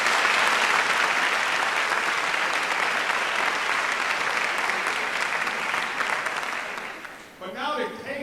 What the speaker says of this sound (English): just with some applause